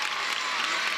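Teammates clap, snap and cheer after a college gymnastics routine at UCLA at Minnesota, a brief burst of steady applause from a crowd in an arena.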